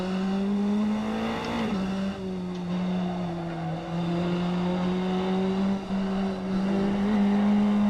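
A race car in a racing video game accelerates hard out of a corner, its engine a loud, continuous droning whine that holds steady and then climbs in pitch, with no voices over it.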